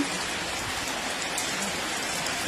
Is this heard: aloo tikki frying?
no